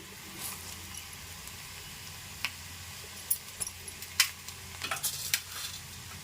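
Cumin and mustard seeds hit hot oil while tempering coconut mango chutney, giving a low steady sizzle with scattered sharp crackles and pops that grow busier toward the end.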